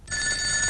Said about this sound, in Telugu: వచ్చే ఫోన్ నాకు వస్తుంది.